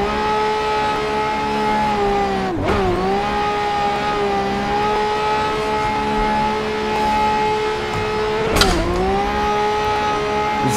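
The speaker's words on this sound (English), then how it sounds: "Savage fifth gear upshift." A Lamborghini drift car in a drifting simulator game holds a loud, steady high engine note, dipping sharply twice as it shifts up, then climbing again without pause.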